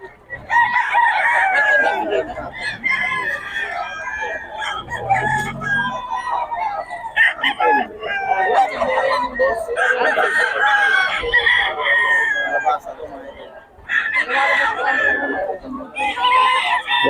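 Pumpkin sweater gamefowl roosters at Bocaue crow repeatedly and loudly close by, several overlapping cock-a-doodle-doo calls with clucking between them and brief human speech in the background.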